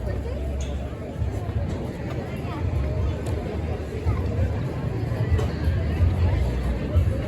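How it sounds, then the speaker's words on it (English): Dense crowd chatter and murmuring voices fill a busy county fair at Oaks Park, a steady hubbub of many people at moderate distance with no single voice standing out. "because there's a lot of crowds here"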